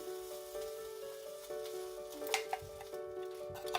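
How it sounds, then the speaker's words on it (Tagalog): Coconut milk pours into a hot pan of cassava, bringing a steady close sizzle with faint stirring clicks and a few sharper taps near the end, with no voices. "Ilagay ko na ang coconut milk"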